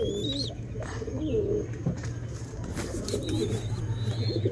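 Pigeons coo softly and repeatedly nearby, low throaty calls in a quiet setting, with a few brief higher chirps from other birds mixed in.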